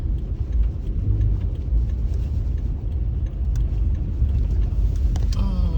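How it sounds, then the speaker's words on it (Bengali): Cars creep slowly along a snowy New York street on a winter morning near a train overpass, giving a steady, close, low engine-and-tire rumble that holds throughout. "গাড়িগুলো আস্তে আস্তে যাচ্ছে"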